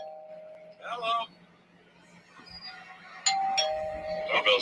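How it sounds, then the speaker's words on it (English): A doorbell chimes indoors with two-tone dings, once near the start and again later. Someone talks softly between the chimes, and there is faint background sound. "Doorbell's ring."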